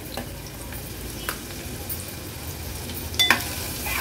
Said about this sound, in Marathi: लसूण, मिरची आणि कांदा छान तेलावर परतून घेऊया।